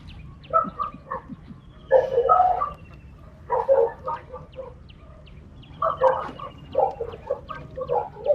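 A goose by a shallow river honks in repeated short nasal bursts, moderately near, in uneven clusters over a low, steady background.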